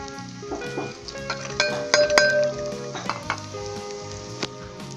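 Steady sizzling of spices frying in a hot pan, with clinks of a utensil stirring against metal scattered throughout.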